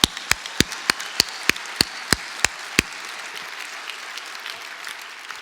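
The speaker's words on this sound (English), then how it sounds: "let's first clap it up" About ten sharp, evenly spaced claps ring out in a steady rhythm at a business talk, each crisp and close, then the clapping stops and only quiet room tone remains.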